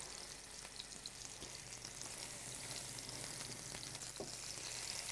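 Beef, spinach and mushroom patties fry in hot oil in a pan, giving a steady, close crackling sizzle throughout with a few sharper pops.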